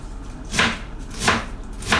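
A freshly sharpened knife cuts across the grain of filling ingredients for Filipino lumpia, three crisp, evenly spaced chops on a board, close and clear with no talk.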